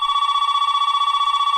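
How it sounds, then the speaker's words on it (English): An indoor telephone rings loudly and alone, a bright electronic tone trilling in rapid, even pulses that continue through the whole moment. "I'm going to pause here till the phone stops ringing."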